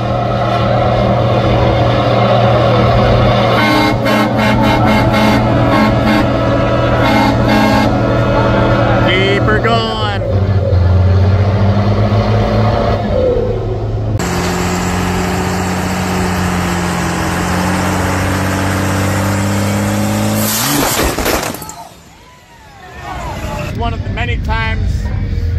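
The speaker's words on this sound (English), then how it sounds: "And then we got her out here into burnouts as well." A 1979 International cabover truck revs hard while doing burnouts, a loud, sustained engine roar with rising and falling pitch and a brief dip near the end, with people talking over it throughout.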